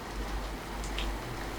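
Steady rain falling during a thunderstorm, a continuous soft hiss with low rumbling underneath, with no voices present.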